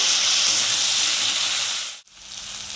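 Tomato added to onions frying in a pan, a loud, close, continuous bright sizzle and hiss that briefly cuts out before resuming more softly, with no talk.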